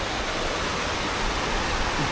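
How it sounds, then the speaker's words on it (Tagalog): A waterfall pouring down as a dense, loud, unbroken roar of falling water, close and steady, with no voices. "dito kasi sa bumabagsak na tubig na yan"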